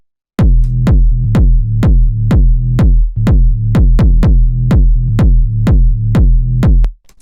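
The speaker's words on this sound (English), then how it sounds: "this kick and bass, which sound like this" A deep, booming kick drum thumps in a steady pattern with a low bass line sustaining beneath it, loud and upfront, stopping abruptly at the end.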